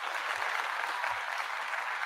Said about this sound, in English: Let me go ahead and give you a crowd applause here.